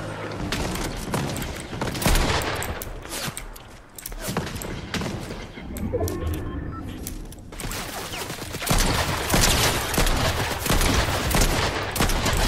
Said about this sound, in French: j'entends des tirs à gauche